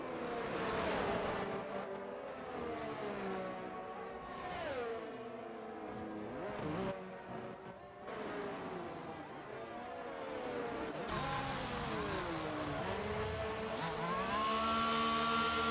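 Race cars in a racing game at the Jeddah street circuit, Saudi Arabia: engines rise and fall in pitch as they accelerate, downshift and pass, a continuous layered whine of several cars, fairly loud and close.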